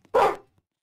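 A single short, sharp dog bark from the Roblox game Piggy, loud and close, followed by near silence with a couple of faint clicks.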